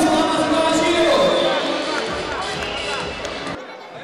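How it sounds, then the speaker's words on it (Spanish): Crowd noise swells loudly at a fight club boxing event, a broad sustained roar and applause from the audience before the first round, dropping off sharply near the end. "¡Fuerte ese aplauso, damas y caballeros!"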